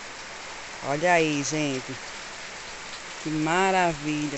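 Steady rain falls on a farm in northeast Brazil, a constant soft hiss running throughout while someone talks over it in two short bursts.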